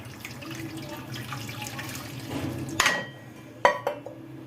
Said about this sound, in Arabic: هلا عندي صينية رح احط فيها مي سخنة تقريبا عم تغلي